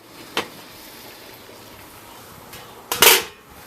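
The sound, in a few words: lid taken off a canning pot water bath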